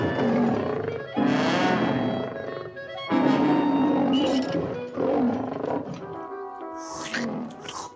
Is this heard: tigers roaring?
yes